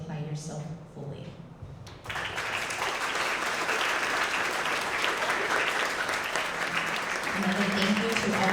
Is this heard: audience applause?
yes